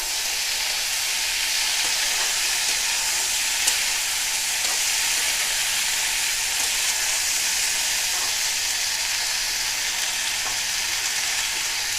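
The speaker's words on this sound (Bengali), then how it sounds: "এখন একটু আবার নেড়ে নেব।" Spinach stems and green chillies sizzle steadily in a hot pan as they are stirred, a dense continuous frying hiss at close range with occasional soft scrapes and no talking.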